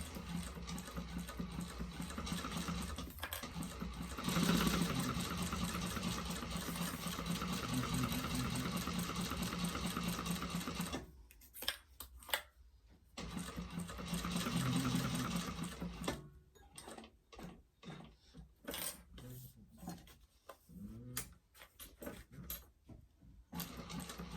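A sewing machine stitches a convertible backpack in bursts of steady mechanical whirring, stopping and restarting several times, with short quiet gaps and brief rapid runs of stitching near the end.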